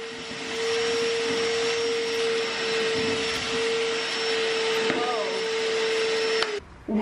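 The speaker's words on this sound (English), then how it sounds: "let's see how much sawdust goes in this instead of my shop vac" A shop vacuum runs steadily through a DIY dust collector with a pressure release valve, sucking up sawdust with a loud constant whine and hum before cutting off near the end.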